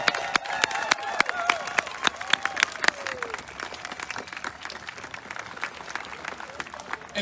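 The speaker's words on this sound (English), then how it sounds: "Let's give a big hand for them." A crowd at an outdoor health care rally applauds doctors, with steady clapping and a few sharp near claps, a whistle rising early on, and scattered voices blending into the cheering.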